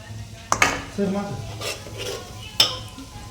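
Food stirred in a metal pan, with a few sharp utensil clinks and scrapes against the pan and a faint sizzle between them.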